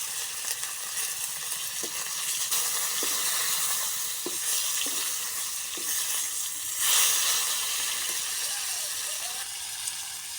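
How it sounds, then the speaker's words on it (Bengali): Fish pieces fry in hot oil with a steady, close sizzling hiss, broken by a few sharp clicks of a utensil stirring in the pan. "তেল গরম হয়ে গেছে, এখন মাছের পিসটি ভালো করে ভেজে নেব"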